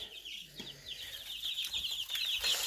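A flock of about thirty young chicks, including naked-neck chickens, cheeping and clucking around a small feeding dish, a continuous busy chorus of high peeps close by with no talk.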